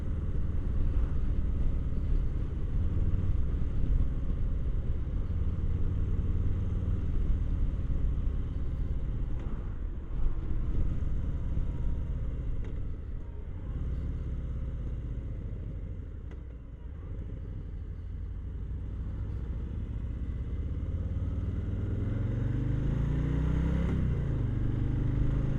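A stock Harley-Davidson Low Rider S motorcycle engine rumbles low and steady while riding, with subdued, muffled exhaust tone and gentle swells of revving and deceleration, heard close throughout.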